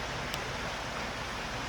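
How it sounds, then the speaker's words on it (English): Waterfall in the Dinkey Wilderness, a steady broadband roar of rushing, splashing water filling the air without pause, fairly close and uniform in loudness with no voices. "And here's the waterfall I was talking about earlier."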